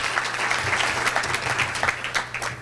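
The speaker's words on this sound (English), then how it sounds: "let's give them a round of applause for" Audience applause at a Pasco Chamber of Commerce meeting, a steady, dense clapping that runs the whole stretch at moderate loudness in an indoor room, with no talk over it.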